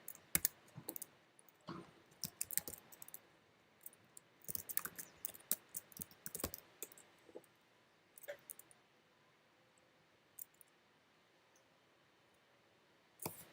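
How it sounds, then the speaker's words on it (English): Keys clatter on a computer keyboard as commands are typed, with irregular bursts of clicks and short pauses, close and moderately quiet, with no talking. "It's just typing in a few commands."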